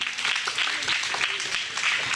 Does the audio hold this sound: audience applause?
yes